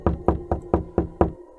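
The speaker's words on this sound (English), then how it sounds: "I banged on the door" Someone bangs on a door with six firm, evenly spaced knocks in quick succession, each a sharp, close, hollow thud, with nothing else heard.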